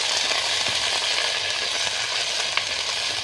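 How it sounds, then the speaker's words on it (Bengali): Potato, drumsticks, bitter gourd and raw banana frying together in a pan for sukto, giving a steady, dense sizzle with faint stirring clicks throughout and no talk. "আর এর মধ্যে যে কাঁচা কলা সব একসাথে ভেজে নিচ্ছি"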